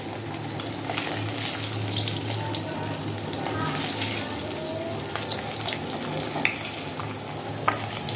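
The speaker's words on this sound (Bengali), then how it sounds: "মাছ ভাজা হয়ে গেছে" Fish frying in a pan in a home kitchen, a steady, close sizzle that carries on without a break, with faint clinks of utensils now and then.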